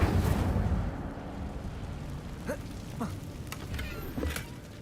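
The Incendio fire spell is cast in Hogwarts Legacy, a loud whooshing burst of flame with a roaring, crackling tail that fades into rumbling ambience, followed by a few faint clicks and pops.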